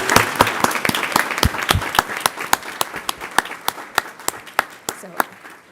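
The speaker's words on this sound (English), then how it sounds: "We'd like to give them a round of applause." An audience at a school district board meeting applauds with sustained clapping that grows into sharp, distinct individual claps, without speech.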